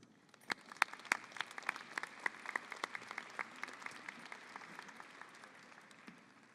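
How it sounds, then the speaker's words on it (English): A graduation-ceremony audience claps for the interim principal at a high school commencement, a sparse, moderately distant patter of individual hand claps that continues steadily for several seconds without voices. "Let's welcome him with a round of applause."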